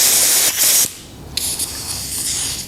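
A spray gun hisses finish onto a wooden picture frame in short bursts, a close, airy spray cut by brief pauses.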